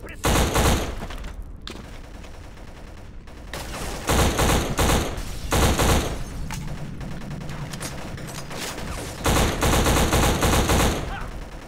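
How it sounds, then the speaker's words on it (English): Bursts of rapid gunfire from a video game played through a TV come in several loud volleys, separated by brief lulls, sounding like automatic weapons. "Hopefully the gunshots from my TV aren't coming through."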